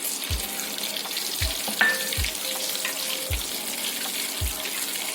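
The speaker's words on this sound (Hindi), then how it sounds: "अब इनको अच्छे से फ्राई करना है।" Spices and curry leaves frying in a pan for restaurant-style chicken korma: a soft steady sizzle underneath, with five evenly spaced low thumps and a faint clink, no talking.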